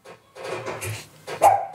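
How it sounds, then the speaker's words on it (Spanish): A small female dog barks to be let inside, giving a few short, close barks with brief pauses between them. "Mi perrita quiere entrar."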